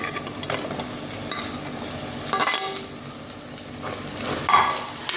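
Tomatoes tumble into a pan of softened onions, frying and sizzling steadily while a spoon stirs and scrapes, with a few louder bursts of hissing as the fresh pieces hit the hot oil, all up close, for a Kerala-style crab curry.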